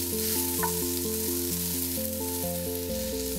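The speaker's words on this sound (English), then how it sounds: "heat up a pan with some olive oil and then caramelize our sliced fennel" Constant sizzling of sliced fennel bulb caramelizing in olive oil in a pan, close and steady, with soft background music playing underneath.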